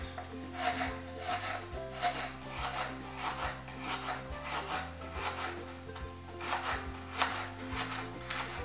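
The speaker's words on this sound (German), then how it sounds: "ich schneide das jetzt." A knife cuts vegetables on a board in a home kitchen, giving steady, rhythmic rasping strokes roughly twice a second, close and fairly quiet, with no talking.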